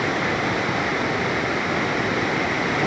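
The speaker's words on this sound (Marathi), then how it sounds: "आता धबधबा तुम्ही पाहताय, पाणी भरपूर आहे" A heavy waterfall carrying lots of water roars in a steady, loud, unbroken rush of white noise, close by, with no voices over it.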